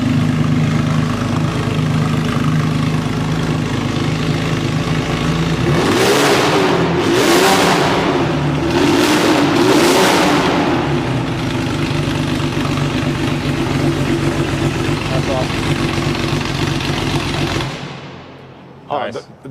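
A Porsche 996 engine idles loudly up close, then revs hard in several rising bursts before settling back to idle and cutting off, with voices talking over it.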